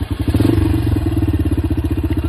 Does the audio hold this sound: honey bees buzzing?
no